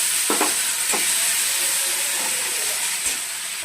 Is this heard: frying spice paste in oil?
yes